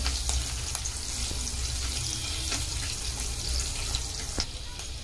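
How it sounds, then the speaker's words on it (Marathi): Slit green chillies and cumin with a pinch of asafoetida fry in hot oil for a tempering, a steady close sizzle with faint crackles and stirring throughout. "जरा तेलात परतून घेऊया।"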